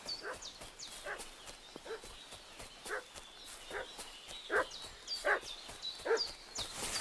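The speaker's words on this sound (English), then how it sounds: "What's that dog making such a fuss about?" Dog in Kingdom Come Deliverance 2 barking repeatedly at a moderate distance, sharp barks spaced about a second apart over faint outdoor ambience, with thin high chirps in the background.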